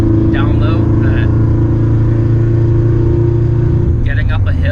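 A 500 WHP Subaru WRX engine drones loud and steady as it pulls uphill at slowly climbing revs, a constant close rumble with someone talking over it at the start and end.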